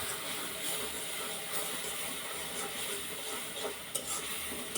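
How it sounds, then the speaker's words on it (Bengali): Spices and chili sizzle and fry in a pan as they are stirred during cooking for a pigeon meat curry, giving a steady close hiss with occasional scraping clicks from the stirring. "তো আমি এইগুলো দিয়ে এখন ভালো করে নেড়ে চেড়ে নেব।"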